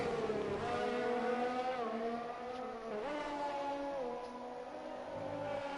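Formula 1 race cars in a racing video game, a high whining engine note that rises and falls through gear changes, steady and close, with a faint passing car sound underneath.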